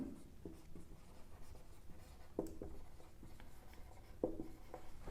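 Marker or chalk writing on a board during a chemistry lecture, faint close scratchy strokes with a few sharper taps, quiet and continuous.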